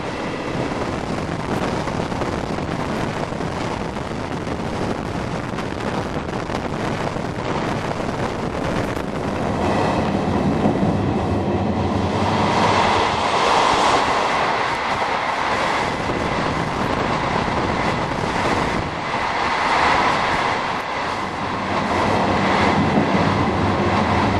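An ALn 668 diesel railcar runs by on a minor branch line, a steady rumbling roar with rail clatter that builds and swells midway, loud and continuous with wind buffeting the microphone throughout.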